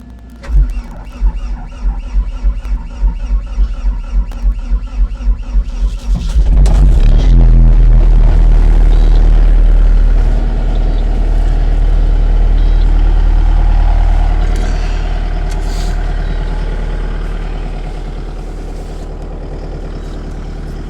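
An old Case SVL 95-2 machine cranks several times with rhythmic starter chugging, then fires and settles into a loud, heavy diesel warm-up idle on a cold winter day.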